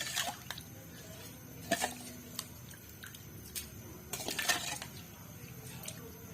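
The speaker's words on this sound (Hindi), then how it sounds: "चावल जो है शामिल करूँगी इसमें" Rice tipped into a pot of boiling water for spicy chicken pulao, giving a few soft splashes and clinks of utensils against the pot, then a low, steady bubbling in between, fairly quiet and with no talk.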